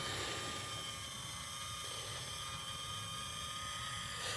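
A camera drone flying low over a field about 170 metres long gives a steady, high-pitched whirring buzz of its propellers, loud and unbroken throughout, with no voices.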